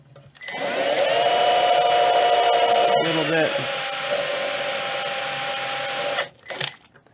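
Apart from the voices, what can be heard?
power drill drilling into wood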